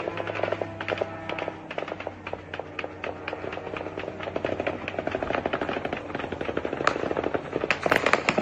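Explosions during a drone strike on an oil depot: a dense, continuous crackle of rapid pops and bangs, like firecrackers going off in quick succession, sustained throughout at a steady moderate level.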